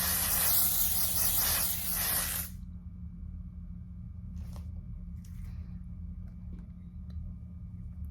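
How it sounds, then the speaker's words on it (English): A dry setting mist sprayed onto the face gives one long, close, airy hiss lasting about two seconds. It then stops abruptly, leaving near silence with only faint small rustles. "It's a dry mist."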